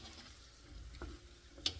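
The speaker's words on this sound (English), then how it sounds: "you want to stir this up, the meat, into that onion and the paste" Beef being stirred into onion and paste in a cooking pot, a soft continuous scrape and low sizzle with a brief clink near the end, close and fairly quiet.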